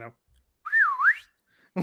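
A person whistles once to get someone's attention, a clear swooping tone that rises, dips and rises again. Brief voices are heard just before and just after it.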